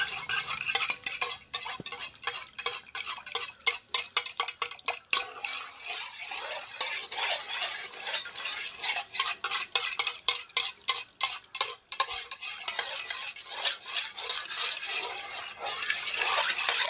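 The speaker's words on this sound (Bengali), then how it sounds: "এটা ভালো করে মিশিয়ে নিই" Shampoo cleaning mixture stirred briskly in a bucket of water for washing a blanket, giving a continuous close sloshing and clinking with a rapid rhythmic swishing that keeps going throughout.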